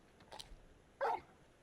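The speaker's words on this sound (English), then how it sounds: "You're just a big puppy, aren't you?" A large dog, the companion hound Torgal in Final Fantasy XVI, gives a single short, close bark after a faint earlier whimper-like sound, otherwise quiet.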